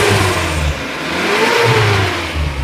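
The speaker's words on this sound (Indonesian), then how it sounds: "Nah, ini saya geber. Sampai RPM 3000, suaranya masih halus." A 2011 Suzuki Carry Futura van engine revs up to about 3000 RPM, rising and falling in pitch in steady surges, close and fairly loud with no talking.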